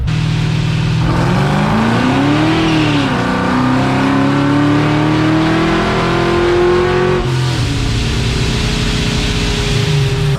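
A loud Ford Mustang engine on a dyno revs hard and steadily climbs in pitch, dips briefly, then surges again, roaring continuously at close range with no talking.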